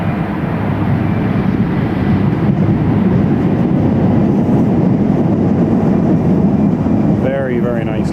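Italian Air Force C-27J military transport plane landing, heard as a steady, loud, broadband roar of engines and rolling noise close by with no break, a brief whining tone rising near the end.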